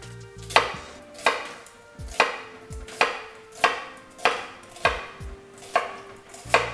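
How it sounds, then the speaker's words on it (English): A knife chops through an onion laid flat on a cutting board, with about eleven sharp, evenly spaced thuds close by and loud. No one speaks. "we're going to cut it in half and put the onion down flat on the board"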